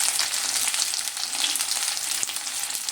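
Ginger paste sizzling in hot oil with hog plums in a pan, a steady close bright crackle and hiss running without pause, no voices.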